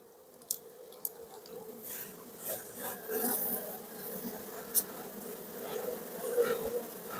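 Honeybees from a weak colony that came through winter hum and buzz steadily across the hive frames, a soft close droning with a few sharper bursts as the frames are worked.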